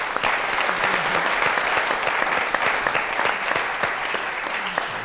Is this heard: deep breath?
no